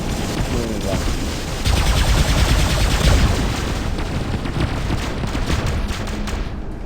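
Sustained robot weapon fire in War Robots, a dense continuous barrage of rapid shots and booms, loud and steady for several seconds.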